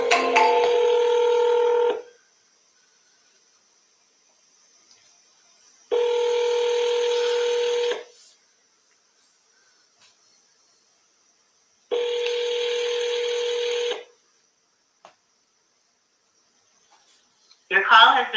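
A telephone placing a call plays three identical long ringback tones, each about two seconds, separated by several seconds of silence, followed by the start of a fourth tone.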